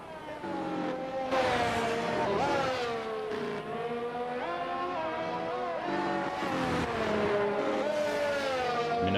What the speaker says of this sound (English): First man out of the pits looks to be the Red Bull of AERT Ched